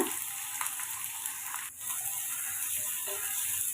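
Onions sautéing in hot oil with cumin and a bay leaf give a steady, close sizzle that holds constant with a brief dip partway through, for an egg curry base.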